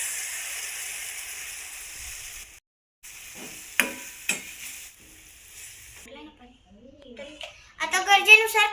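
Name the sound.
gram flour batter poured into hot pan and stirred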